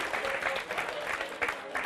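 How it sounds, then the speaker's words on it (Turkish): A television studio audience on a Turkish music show claps in sustained applause, dense and fairly close, swelling in waves for the whole stretch. "Öyle bir selam gönderin ki alkışlarınız onlara kadar ulaşsın gurbete."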